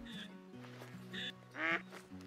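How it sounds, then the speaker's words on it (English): A teal duck quacks a few times at a hunting spot, short nasal calls over a low steady hum, with one louder, closer burst near the end. "Oh, it's a teal."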